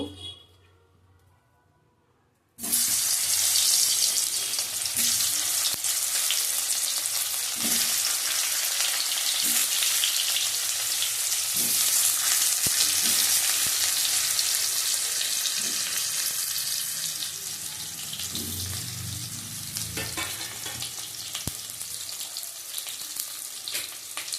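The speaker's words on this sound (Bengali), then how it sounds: "ছোট ছোট আলুর দমের আলু কেটে নিয়েছি, সিদ্ধ করা আছে, ভেজে নেব" Boiled baby potatoes for aloo dum hit hot oil after a short quiet start, then fry with a loud, steady sizzle that continues throughout, with occasional stirring clinks and no talking.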